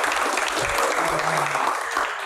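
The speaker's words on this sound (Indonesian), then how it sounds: "tepuk tangan buat Pak Aswarana" Steady applause from an audience at a televised Q&A, a dense continuous patter of many hands clapping throughout, moderately close and holding even in level.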